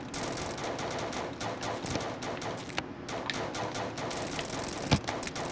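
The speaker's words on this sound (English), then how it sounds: "Oh, I have a machine gun." Sustained rapid machine gun fire in the zombie defense video game Yet Another Zombie Defense, a steady rattling stream of shots at moderate level with a couple of heavier impacts near the end.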